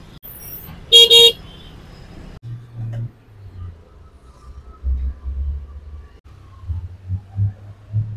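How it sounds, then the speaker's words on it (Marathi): Stuck in a full traffic jam on a service road, a car horn blares loudly for about half a second near the start, followed by low, rumbling engine and traffic noise that swells and fades. "तरी पण इथे पण ट्रॅफिक फुल जाम झाली."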